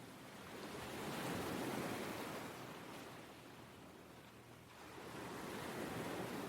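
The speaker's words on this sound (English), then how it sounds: "The sound of the surf in the background and the gentle caress of the ocean breeze" Steady ocean surf on a New Zealand coast mixes with a breeze in a broad, continuous wash of noise that swells and eases gently, moderately distant and with no voices.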